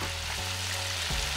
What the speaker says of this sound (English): Make sure when you're frying the ribs, fry them until they're really nice and done,